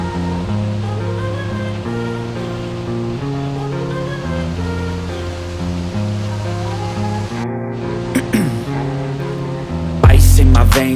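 The roaring Cachoeira da Garganta waterfall near Lima Duarte, Minas Gerais, gives a steady broadband rush throughout, largely overlaid by a loud music track.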